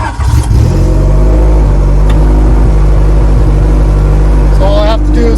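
A Honda Civic EG engine runs loud and steady close by, its low drone holding throughout with a brief rise near the end, as if the throttle is blipped.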